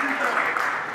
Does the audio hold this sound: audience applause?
yes